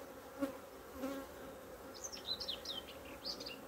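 Honeybees buzzing in an opened hive during an inspection, a low steady hum with faint flickers of higher buzzing, quiet and close.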